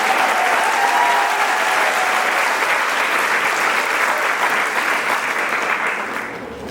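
Sustained applause from a large audience at a St Demetrios High School graduation ceremony in 2024, steady dense clapping filling the hall throughout, then tapering off slightly at the end.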